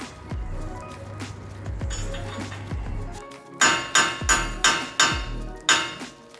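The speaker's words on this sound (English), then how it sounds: "Matt, hammer it out. So I'm gonna hit this from the front." A metal part of a 2019 Ford F-150 truck is struck with a hammer, first a few dull thuds, then a rapid series of loud, ringing clangs close by.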